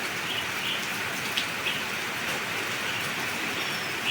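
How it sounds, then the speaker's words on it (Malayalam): Heavy rain with wind pours down in a steady, dense hiss without a break, loud and close, with no voices. "നല്ല മഴയും കാറ്റുമാണല്ലോ ഇന്ന് കാലത്തോട്ട്"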